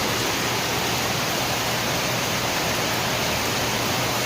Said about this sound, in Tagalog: Dahil sa sobrang lakas ng ulan,